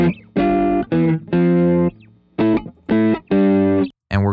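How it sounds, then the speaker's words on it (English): An electric guitar played through a Guitar Rig AC box amp preset sounds a series of distorted, sustained notes and chords, each a few beats long with brief gaps, loud and close with no talking. "I'm going to use the guitar rig, and I have the AC box preset."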